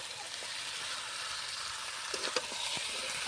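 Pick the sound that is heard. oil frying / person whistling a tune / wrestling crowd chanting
oil frying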